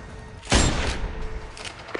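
A single heavy sniper rifle shot in the video game Sniper Ghost Warrior 2 lands as a sudden loud boom, followed by a rolling echo that fades over a second and a half.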